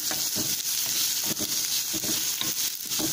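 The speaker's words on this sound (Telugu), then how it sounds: "ఇందులో ఆనియన్స్ వేసుకుందాం. ఆనియన్స్ వేసుకొని ఫ్రై చేసుకుందాం." Onions frying in hot oil with popping mustard seeds, a steady close sizzle with crackling spatters and occasional stirring scrapes throughout.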